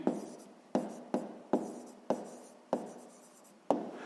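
Pen writing on paper during a sixth-grade maths exercise, several short close scratchy strokes, each starting sharply and fading, with brief pauses between.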